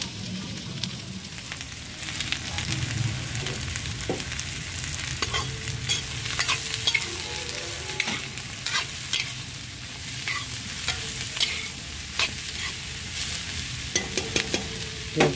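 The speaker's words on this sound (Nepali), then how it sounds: "प्याजलाई चाहिँ राम्रोसँग भुट्नुपर्ने हुन्छ।" Chopped onion frying in a hot pan while mutton bhutan is prepared, giving a steady, close sizzle with occasional stirring scrapes throughout, and no talking.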